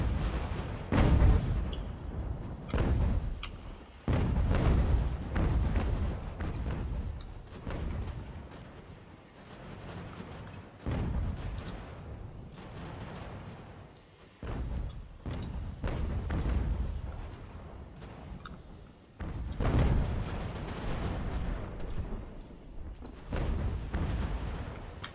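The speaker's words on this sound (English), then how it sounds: "Looks like they might have some mortars." Mortar and artillery fire in an American Revolution battle game, heavy booms and explosions landing repeatedly and close over 25 seconds, with dense rumbling bursts and no pauses in the barrage.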